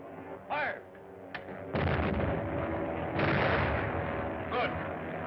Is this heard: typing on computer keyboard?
no